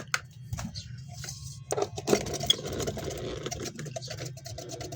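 An old electric clip fan running off a modified sine wave inverter gives a faint, rough mechanical whir with buzzy ticking and patter, under quiet background noise with a few brief bumps.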